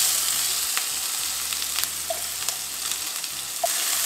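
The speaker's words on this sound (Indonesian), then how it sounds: "Ini kita tumis sampai dia wangi ya" Ground spice paste sizzles steadily in hot oil as it is sautéed for a tom yum broth, a dense close crackle with a few light stirring scrapes and no voices.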